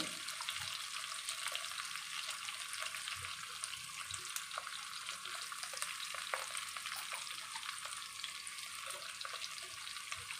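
Green chilies and cut potatoes fry in a pan with a soft, constant sizzle and hiss. The sizzle stays faint and even throughout, with a few light stirring taps and no voices.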